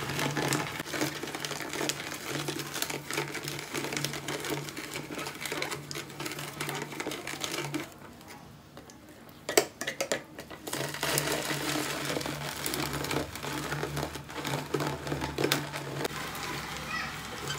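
A manual plastic vegetable juicer is pressed and turned by hand, giving a close, rapid ratcheting rattle and grinding with a short pause and a few knocks midway before the cranking resumes.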